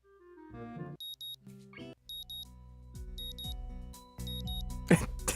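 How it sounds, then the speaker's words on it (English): Repeated electronic alarm-style beeping from the Katawa Shoujo video game plays in short double bursts over soft game music and small noises, with a sneeze-like sound near the end. "I like the beep still playing."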